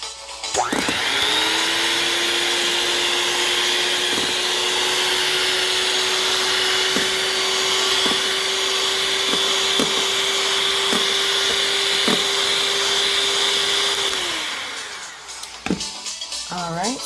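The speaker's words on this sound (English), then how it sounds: "beat 2 egg whites into soft peaks" Electric hand mixer beating two egg whites to soft peaks, a loud steady motor whine that spins up, holds for about thirteen seconds with faint clicks of beaters against the bowl, then winds down.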